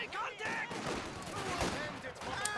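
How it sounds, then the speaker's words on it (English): Heavy machine gun fire from a DShK in a Soviets-versus-Wehrmacht strategy game battle, sounding as a dense, continuous rattle of shots with a commentator's voice talking over it. "Dushka putting heavy fire in from the heavy machine gun"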